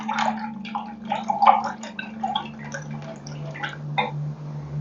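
A paintbrush is rinsed in a water pot during a painting session, with soft, irregular sloshing and dripping taps sounding up close over a low steady hum.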